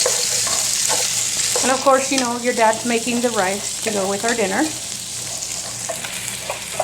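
Pork and onions frying and browning in a pan, a constant sizzle beneath someone talking for a few seconds, with occasional stirring noises.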